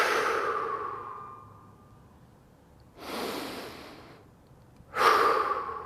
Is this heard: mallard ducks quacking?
no